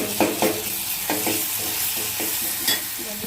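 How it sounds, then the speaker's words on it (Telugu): Onion frying with ginger and garlic in a pan for bendakaya pulusu gives a steady close sizzle, with a spoon scraping and tapping the pan in quick, regular strokes. "ఉల్లిగడ్డ మంచిగా గోలింది కదా, కొంచెం అల్లం ఎల్లిగడ్డ గోలాలి"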